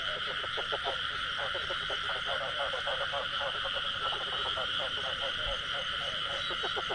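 Frogs croak in a rice field with dense, rapid, rattling calls that overlap continuously for the whole stretch, set against a steady high insect drone and faint outdoor noise.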